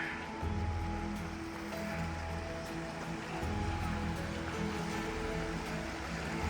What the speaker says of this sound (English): This is the Virgin River.